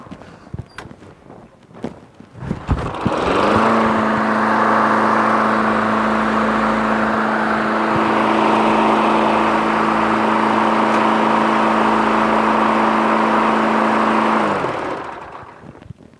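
A Craftsman LT1000 lawn tractor engine starts after a few clunks and runs loudly and steadily at a constant idle with a strong droning tone, then cuts off near the end.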